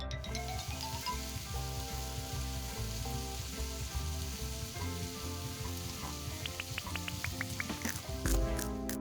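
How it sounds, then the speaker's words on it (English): Corn and onions cook in a pot on the stove, giving a soft, steady sizzle with gentle crackles and a few light scraping stir sounds near the end, quiet and continuous with no talking. "I'm just going to cook this just until the corn starts to brown a little bit and the onions just soften slightly"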